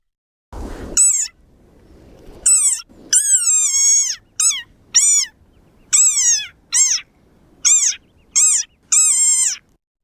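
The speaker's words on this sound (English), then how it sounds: "This is the desert frog, and hopefully this isn't too loud anymore." A desert frog toy or call gives a series of about nine loud, high, squeaky croaks in irregular bursts, each sharp and alone against near silence, sounding almost like a meow.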